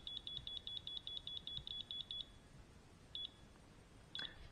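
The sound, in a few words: WaterMate smart irrigation control unit beeping while connecting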